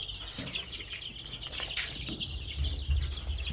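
Young chicks and hens on a farm, clucking and chirping close by with a brief flutter of wings, over a low steady background hum.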